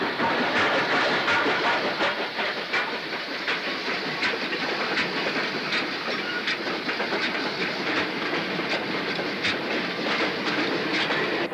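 A 9F steam locomotive hauls a fully loaded iron ore train of 11 wagons and a brake van, about 1,000 tons. Continuous rumbling wheel noise and clickety-clack roll past with steady hiss, loud and close, with no talk.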